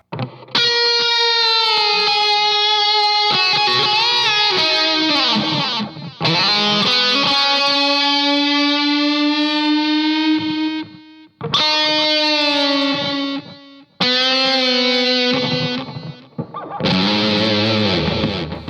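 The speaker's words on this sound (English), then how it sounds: "it's a lot of reverb and a lot of delay" A sustained, distorted electric guitar lead through an ART SGX 2000 Express guitar preamp plays long held notes, each phrase trailing off into heavy reverb and echoing delay repeats. No talking.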